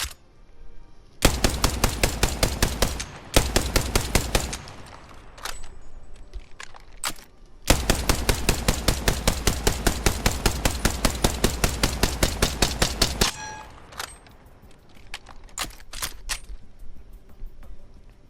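A weapon in Apex Legends fires in long rapid bursts, loud and close, with a short burst, a pause, then a sustained stream of evenly spaced shots, followed by scattered quieter clicks and mechanical handling sounds.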